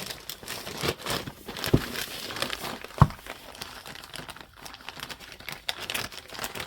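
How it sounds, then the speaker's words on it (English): Wrapping paper crinkles and crackles steadily while an advent calendar gift is unwrapped, with a couple of sharper tearing rustles standing out among the continuous close papery handling. "I love this wrapping paper."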